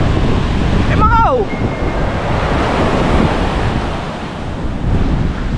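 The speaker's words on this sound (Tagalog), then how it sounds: "Masyadong maalon eh." Rough surf pounds the shore at Bucana, Batangas during Typhoon Opong. The roar is loud and continuous, with heavy wind buffeting the microphone, and a brief whistle-like call cuts through early on.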